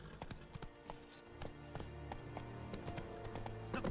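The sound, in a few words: horse galloping in the video game The Witcher 3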